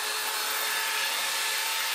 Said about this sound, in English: So I'm going to sand this down